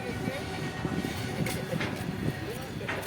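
A train rumbles in close by with a steady heavy roar and rattling wheels, loud and continuous, with people talking underneath.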